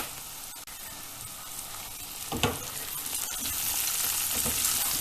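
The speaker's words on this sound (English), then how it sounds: "So about 6 to 7 cloves of garlic and a teaspoon of ginger paste." About six or seven cloves of garlic and a teaspoon of ginger paste frying in hot oil in a pot for a potato and pea pulao, making a loud, steady sizzle that swells when stirred, with a couple of spatula scrapes and no speech.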